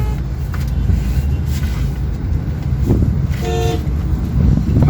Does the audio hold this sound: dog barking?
no